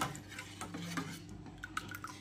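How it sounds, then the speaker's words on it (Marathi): Jowar ambil, a chilled sorghum drink mixed with buttermilk, ginger and garlic, being stirred in a pot: a steady run of soft spoon scrapes and light clinks, close and quiet. "आता हे छानपैकी हलवायचं गार."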